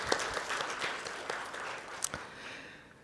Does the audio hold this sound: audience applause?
yes